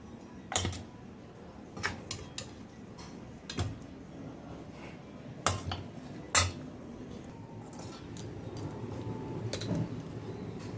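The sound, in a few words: utensils clattering, spatula scraping gravy from a kadai while cooking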